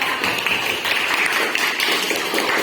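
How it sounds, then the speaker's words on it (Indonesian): Audience applause for children at an Indonesian inspirational educators' awards event, a steady dense wash of many hands clapping with no break, fairly loud and close, with no talk over it. "tepuk tangan dulu untuk adik-adik"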